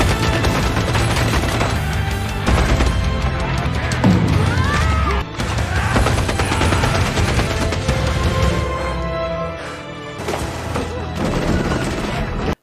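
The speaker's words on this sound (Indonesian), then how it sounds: "Gatling gun." A Gatling gun fires in a film action scene, dense rapid bursts of loud gunfire mixed with crashing impacts and booms, continuous and close with brief pauses.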